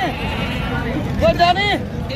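Goats bleat loudly and nearby at a busy livestock market, with a wavering cry rising over a constant background of crowd chatter and someone speaking.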